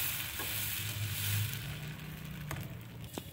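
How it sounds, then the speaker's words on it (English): Spinach and dhal dosa batter sizzles steadily on a hot pan in a home kitchen, a soft continuous frying hiss with a few faint clicks and scrapes, close and fairly quiet. "Now I am going to add 2 ladlefuls of batter and I am going to spread this in a circular motion."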